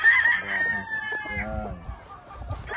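Chickens cluck and a rooster crows nearby on a gamefarm of imported American lines, with several overlapping bird calls and some background noise.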